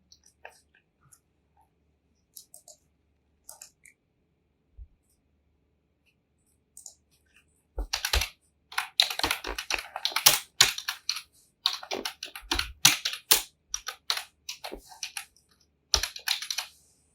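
Keys clatter on a computer keyboard in quick irregular bursts of typing, faint sparse taps at first and then busier, close clicking for several seconds, with no other sound around it.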